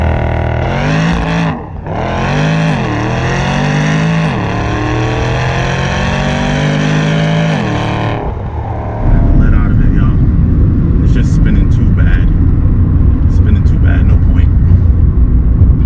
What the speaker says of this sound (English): Let me see if I can get the launch control to come on.